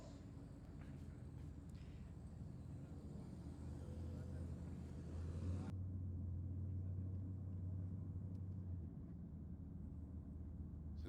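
Toyota Corolla and a Holden Commodore VE GTS drag racing at a night drag event, a steady engine rumble building, with a loud low drone swelling mid-clip as the cars launch and pass, then fading back into crowd noise.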